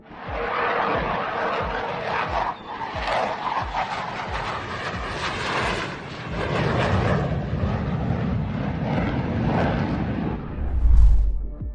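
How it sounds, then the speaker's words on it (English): A Turkish Air Force F-4 Phantom jet flies very low over the crowd at an air show, its engine roar a loud, broad rumble that swells and fades across several seconds, ending with a deep close thump. "A Turkish Air Force F-4 Phantom saves itself from hitting the ground with only a few inches"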